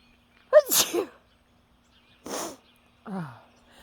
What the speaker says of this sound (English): and I sneezed